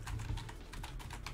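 Quick, light clicks of typing on a computer keyboard while entering a web address in a browser, a short steady burst of keystrokes heard up close.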